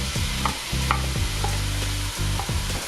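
Onions frying in a pot of spicy shrimp gumbo, a loud continuous sizzle broken by rhythmic scraping strokes of stirring, close up with no talking.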